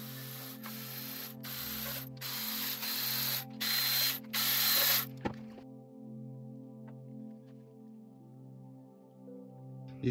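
A ratchet clicks in quick repeated bursts while loosening cam cap bolts on a Suzuki Forenza engine during head gasket work, close and moderately loud, then stops, leaving a faint steady hum.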